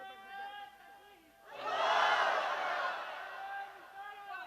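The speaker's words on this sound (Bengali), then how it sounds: "হাবিব, একটা জোরে তাকবীর দাও" At a Bangladeshi religious sermon gathering, a large crowd answers the call for takbir with a loud, sustained collective shout that swells suddenly and holds for a few seconds, rising above the preacher's amplified voice.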